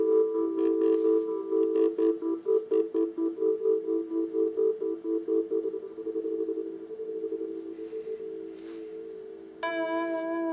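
A sustained tone from an Electronic Piano Synthesizer (EPS) with square-wave LFO modulation, a pulsing, choppy wobble, steady and fairly loud, shifting to a brighter, steadier pitch near the end.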